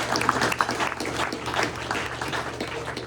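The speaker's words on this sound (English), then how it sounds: "Let's give him a round of applause." Applause at a press luncheon for a sponsor from the Dave Pintard Group, a steady room of clapping hands at moderate level with a low hum underneath, continuing for about three seconds.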